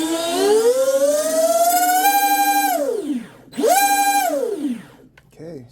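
Twin brushless motors in a Team Fast Lane Zonda RC car spin on a bench test, making a loud whining tone that rises, levels off, drops away, then swells again before winding down.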